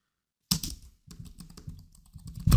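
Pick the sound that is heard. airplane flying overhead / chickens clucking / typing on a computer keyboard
typing on a computer keyboard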